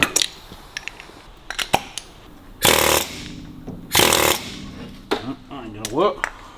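Hammer blows striking a rusty king pin on a 1934 Buick, sharp metallic clanks at irregular intervals with a couple of longer ringing bursts, loud and close, with brief mutters between strikes.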